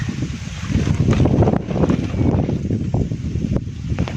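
Strong wind buffeting the microphone outdoors at a shooting range, with a constant low roar and gusty rumbling surges throughout, loud and close, with no speech.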